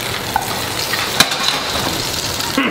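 Food sautés in a pan with a steady, close hiss of frying, broken by a few light clicks and taps.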